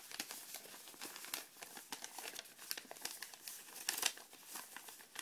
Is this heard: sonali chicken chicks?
no